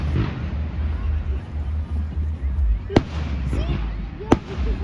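Fireworks at an outdoor fireworks display give two sharp, distant bangs over a low continuous rumble, while people chat nearby.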